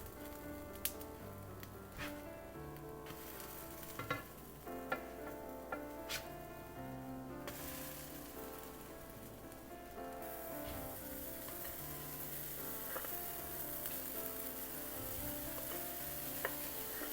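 Pancake batter frying in a pan, a steady close sizzle running throughout with a few small taps and scrapes of a utensil and no talking.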